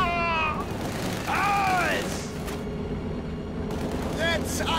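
A Sturm Panzer IV fires in a Company of Heroes 2 battle, with a couple of sharp booms cutting through a steady wash of battlefield noise and warbling sound effects.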